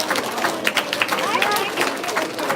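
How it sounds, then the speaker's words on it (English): An audience claps for teachers at a school's final-day event, a brief patter of hand claps blended with crowd noise and a voice speaking over it. "Can you all give a big applause to all your teachers?"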